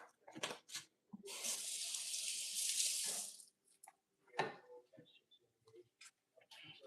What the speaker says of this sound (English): I'm going to rinse the tomato.